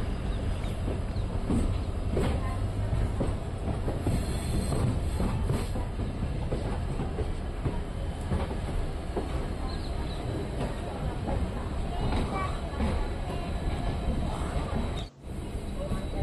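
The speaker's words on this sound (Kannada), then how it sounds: "ವ್ಯಾಸ ಕಾಲೋನಿ ಜಂಕ್ಷನಿಂದ ನಮ್ಮ ರೈಲು ಹೊರಟಿದೆ." A DEMU train pulls out of Vyasa Colony junction on the Ballari to Davanagere line, a steady close rumble with rhythmic wheel clatter on the rails, with a brief dropout near the end.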